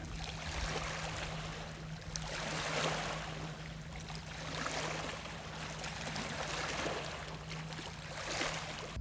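Faint water laps and trickles against a shore as waves from a passing boat roll in, a soft, uneven wash on a quiet outdoor hike with a low steady hum beneath it.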